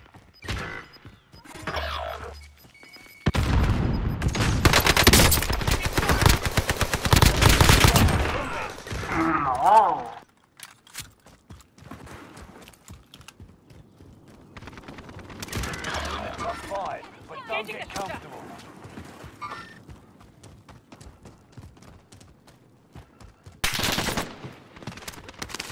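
Gunfire in Call of Duty: Modern Warfare: a dense, loud burst of automatic fire lasting several seconds, followed by scattered mechanical clicks and thuds, a voice speaking, and another short burst of shots near the end.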